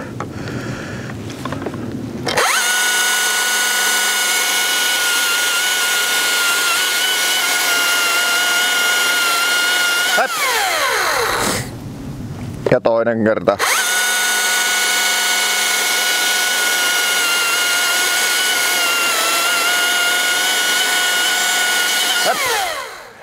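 A Husqvarna chainsaw cuts discs from a birch log, running loud and steady at full throttle for two long stretches with a brief pause between, and a voice speaks briefly near the start.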